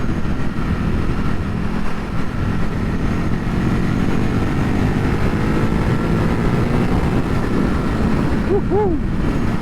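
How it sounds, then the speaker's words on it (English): A motorcycle engine drones steadily at close range, its exhaust fairly muted by stock silencers, with the pitch rising briefly near the end. "You might not be hearing as much exhaust sound because I've got the stock cans back on"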